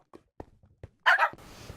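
Pet dogs bark in the Minecraft video game, several short separate yips spaced about half a second apart, then a louder double bark, followed by faint hiss.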